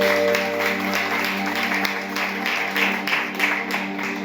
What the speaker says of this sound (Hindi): आइए उस खुदावंद यीशु मसीह के लिए एक आपका उत्तम ताली